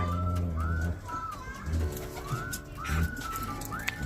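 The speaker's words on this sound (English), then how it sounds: "They must go out now with the older birds," Racing pigeons coo and call with soft rising whistles over a steady outdoor rumble, several short calls scattered through the stretch at moderate distance.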